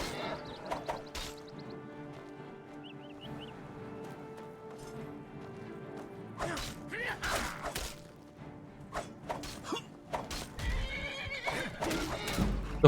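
A horse in the fantasy game Skyblivion, set in a forest, gives a drawn-out whinny, followed by thuds, clopping hooves and sharp impact hits, close and moderately loud against a faint game backdrop.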